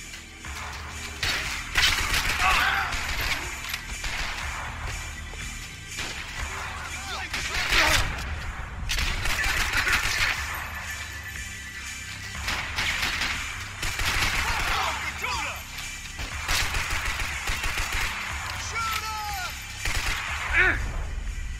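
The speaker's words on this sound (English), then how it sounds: "Oh man, scripted shooting." Scripted gunfire in Max Payne 3: repeated bursts and volleys of shots with crashing impacts and clatter, coming in waves across the scene, steady and fairly loud throughout.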